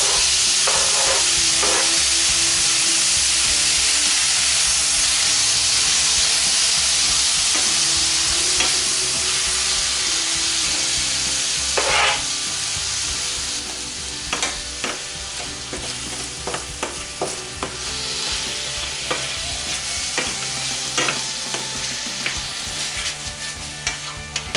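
Tomatoes fry and are stirred in a hot pan for shakshuka, a loud, continuous sizzle up close with scrapes and clatters from the stirring scattered throughout, easing slightly toward the end.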